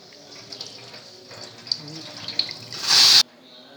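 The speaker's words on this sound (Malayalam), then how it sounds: "ചെറിയ കഷ്ണങ്ങളാക്കിയിട്ട് നന്നാക്കി കഴുകുക" Small cut pieces of aloe vera are rinsed under running tap water; a low background rustle gives way to a short, loud gush of water near the end that stops abruptly.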